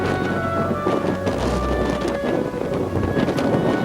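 Gale-force wind at sea near Staffa roars loudly and continuously around a boat, with a dense, rushing buffeting noise and a low rumble beneath.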